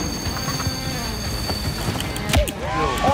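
A train brakes in the video game Party Animals, a steady rolling rumble with a few sharp knocks, then descending metallic squeals near the end as it slows.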